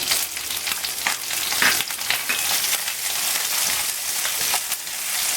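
Capsicum and onion sizzle steadily in hot oil in a pan for a chicken jalfrezi, a continuous close crackle with a few sharper stirring accents and no voices.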